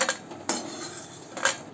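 Roasted bombil fish is lifted from a pan onto a plate, giving a few short clinks of metal utensil against cookware, close and fairly crisp with quiet gaps between them.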